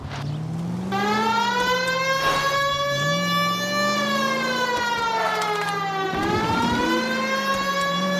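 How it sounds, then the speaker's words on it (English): A loud police car siren in the video game L.A. Noire wails continuously, its pitch rising and falling in slow sweeps over a low engine rumble. "Please, Phelps, the siren"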